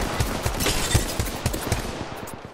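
Rhythmic bursts of automatic gunfire in a first-person shooter video game, fairly quiet and steady, fading slightly toward the end with no talking.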